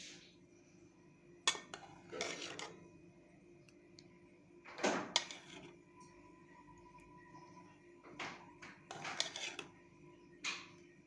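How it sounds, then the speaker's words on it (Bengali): A spoon serves semai into a bowl in a quiet kitchen, giving several separate clinks and scrapes of metal on dishware with short pauses between them and no talking. "সেমাইটা এখন আমি একটা বাটিতে সার্ভ করে দিচ্ছি।"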